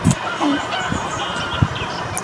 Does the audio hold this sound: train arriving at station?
no